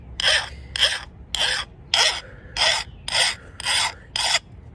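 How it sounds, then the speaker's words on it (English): A metal file rasps along the edge of an axe blade in eight steady, evenly spaced strokes, each a bright, gritty scrape close to the listener with brief pauses between, and no voices. "I'm going to use this file and go along the angle of the blade to sharpen it, like so"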